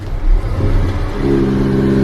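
A Mercedes-AMG GT53 4-door coupe engine starts up: a loud initial roar that settles into a steady idle with a clear low hum, close by and without voices.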